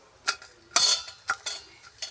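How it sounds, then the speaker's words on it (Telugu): Garlic cloves dropped into hot oil in a pan over a wood fire while tempering ulavacharu, heard as several sharp clinks and brief crackling sizzles, close and fairly quiet with no talking. "ఇప్పుడు ఎల్లిపాయలు వేస్తున్నాను"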